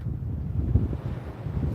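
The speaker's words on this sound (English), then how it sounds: "that's a strong gust of wind right there" A strong gust of wind buffets the microphone at a saltwater fishing pier in Florida, a continuous low roar that swells and surges around the middle, with no voices heard.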